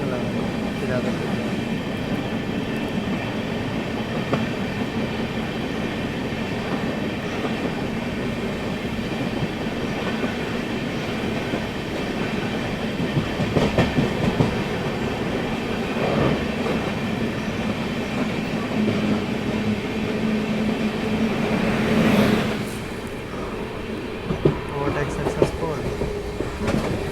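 A long-distance Bihar-to-Bengaluru train runs through the night toward Bangarapet station, rumbling and clacking steadily on the rails throughout. A brief wheel squeal rises near the end.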